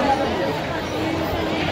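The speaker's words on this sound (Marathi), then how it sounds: "फुल गर्दी आहे अजूनपर्यंत पाहू शकताय मंडळी" Dense crowd of pilgrims at the Pandharpur temple during Ashadhi Ekadashi, a constant murmur of many overlapping voices close around, with no single voice standing out.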